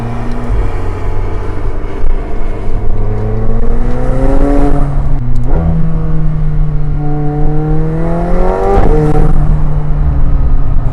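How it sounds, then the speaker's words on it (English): A McLaren 720S in sport mode accelerates hard, its engine note climbing steadily before sharp, aggressive gear shifts cut in twice. The sound is loud and close, with no talking. "Still pretty explosive gear changes on the sport mode, which track mode, it smoothens those shifts out, but as you guys can tell, those are pretty aggressive shifts."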